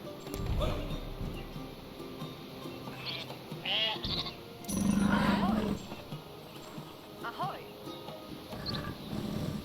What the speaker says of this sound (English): Come over here, sheep.